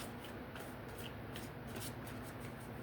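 Tarot cards are shuffled by hand in a quiet room, a soft continuous riffling and rubbing with faint rhythmic slaps, low in level.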